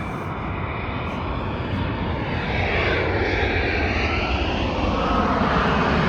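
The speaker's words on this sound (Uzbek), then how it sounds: "Samolyot o'tib ketsa," A propeller airplane drones overhead, its engine roar swelling steadily louder over several seconds, with no talking.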